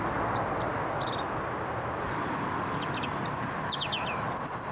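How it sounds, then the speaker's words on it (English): An urban bird sings thin, twittering phrases in short bursts over a steady, loud roar of morning traffic that dominates the background throughout. "Research has shown that urban birds may make their songs louder to compensate for this noise."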